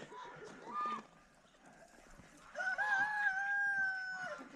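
An Easter Egger rooster crows loudly and nearby in a long drawn-out call, preceded by shorter clucking sounds from the chickens.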